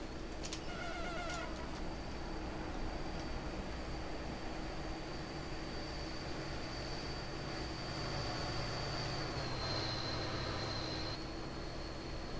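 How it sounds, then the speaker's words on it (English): A steady mechanical rumble with a long, high whine, like a train rolling past in Train Simulator 2019 on the North Jersey Coast Line, with faint squeals near the start. "we need to watch the train go by"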